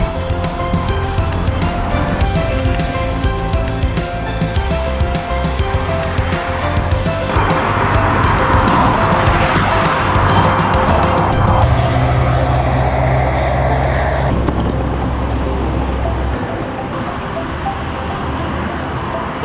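Freeway traffic beside a bikepacking route on the Sea to Sky Trail in British Columbia, a loud continuous roar of passing vehicles and rushing wind, one vehicle swelling up close before fading.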